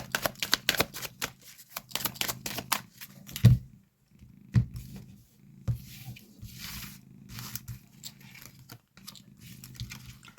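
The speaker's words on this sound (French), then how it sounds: "Je vais faire juste une coupe, ou bien non, et on va se remettre 5 cartes" A deck of tarot cards shuffled and cut by hand: rapid riffling bursts and sharp slaps early on, then a couple of firm knocks and quieter sliding and rustling, close by and unaccompanied by speech.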